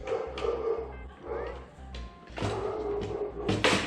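A dog barks in a workshop during aircraft tailcone assembly, several sharp yips and barks spread irregularly over a few seconds, mid-distance and moderately loud over low background noise.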